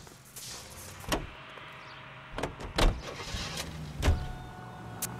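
Car in the L.A. Noire video game, a low engine drone with a few sharp door or mechanical thumps punctuating it, fairly quiet and without voices.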